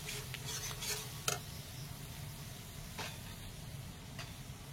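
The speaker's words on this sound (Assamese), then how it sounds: "মছলাখিনি খুব ভালকৈ ভাজি লওঁ।" Spice masala with ginger-garlic paste fries in a pan, a faint low sizzle broken by several quick scraping stirs of a spatula, heard close and quiet.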